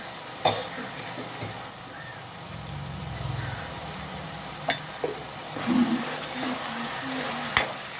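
Chopped onions fry in a pan with a little turmeric added, giving a soft steady sizzle with occasional spoon scrapes and clinks against the pan, close and moderately quiet, with no talking.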